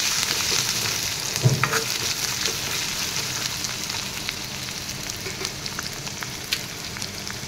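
Onions frying in a pan for an Assamese bitter gourd and fish curry, a steady close sizzle with occasional stirring scrapes and no talking.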